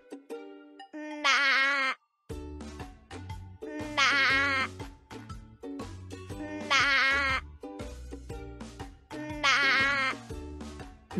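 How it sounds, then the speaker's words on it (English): A young billy goat bleats loudly and repeatedly, four long wavering cries spaced a few seconds apart, with shuffling noise between them. "This is a little billy goat."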